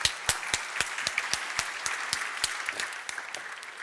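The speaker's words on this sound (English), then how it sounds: "Give her a warm applause." Lecture audience gives an art speaker a warm round of applause, a smaller group whose distinct individual claps stand out over the steady patter, fairly close and continuous.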